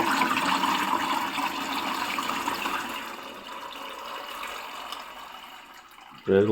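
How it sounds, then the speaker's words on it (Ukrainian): Homemade currant wine pours from a bucket through a colander and strainer, a steady rushing splash of liquid that gradually eases, ending with a brief knock. "Переливаємо сюди відро. І зараз оце Ведемо сюди. о. Знов через друшляк і цідилок."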